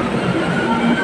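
An MRT train rolls past a station platform, a loud, steady rumble of wheels and carriages with a faint squealing tone on top.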